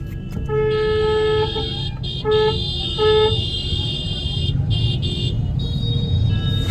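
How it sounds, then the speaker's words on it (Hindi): A car driving on a road through a jungle honks its horn in several short toots over a constant engine rumble, heard from inside the vehicle. "ये चला रहे हैं हम। मनीष भैया चला रहे हैं गाड़ी।"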